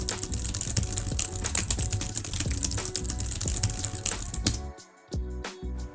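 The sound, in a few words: typing a prompt on a computer keyboard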